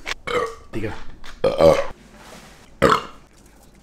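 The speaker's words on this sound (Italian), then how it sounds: "Non ho mai ruttato così tanto in vita mia." Loud, drawn-out burps from a man drinking fizzy liquid by the litre, several in a row with brief talk mixed in between them.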